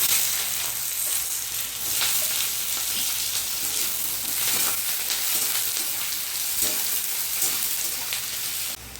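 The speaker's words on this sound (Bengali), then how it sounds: "পেঁয়াজটা ভাজা হয়ে গেছে" Chopped onions fry in a pan with bay leaf, dried red chillies and whole garam masala for a Bengali chicken curry, a steady close hiss and crackle of sizzling oil with soft stirring scrapes throughout, no voices.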